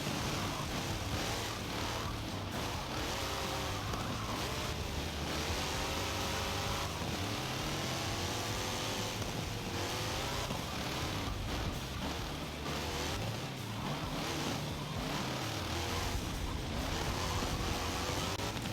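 Several racing engines in Forza Motorsport drone together at a steady level, their pitches rising and falling as they rev through gears, with no talking.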